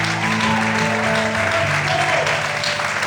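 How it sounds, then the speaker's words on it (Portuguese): Church congregation applauding during an evangelical service, a sustained, even wash of many hands clapping, fairly loud and continuous, with a faint voice underneath. "Aplauda o Senhor essa noite."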